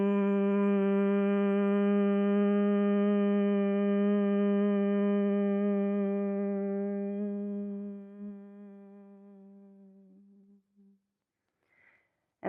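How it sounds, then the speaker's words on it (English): A single person hums a long, steady, pitched tone on one exhale during Bhramari bee-breath pranayama, close and resonant, holding for about ten seconds before fading out, followed by a faint breath. "take an inhale, and I'll hum on the exhale"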